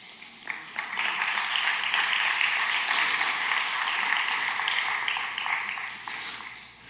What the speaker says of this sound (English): Nervous claps in the room for all the online people.